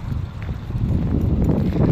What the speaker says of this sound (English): Not sure if you can hear me, it's pretty windy.